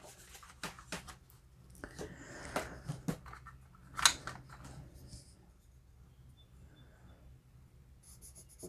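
A 6B sketching pencil scratches and scrapes across paper in short, quiet strokes with irregular pauses, close up. One sharper tap stands out in the middle.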